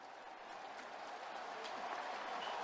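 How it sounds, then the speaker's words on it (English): Large college football stadium crowd roars in a steady, dense wash of cheering and applause ahead of a fourth-and-one play in a 2004 North Carolina vs. NC State game, sustained and building slightly, heard from a distance. "Let's listen to the crowd and see what the crowd wants to do."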